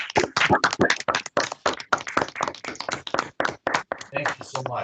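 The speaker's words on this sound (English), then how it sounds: "please give all you competitors, give yourselves a round of applause" Rapid, irregular clapping from a small group of competitors at an online awards ceremony fills the whole stretch, with some voices mixed in.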